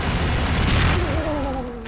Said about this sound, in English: and Aleo, if you hold right click, it bombs. It just shoots bombs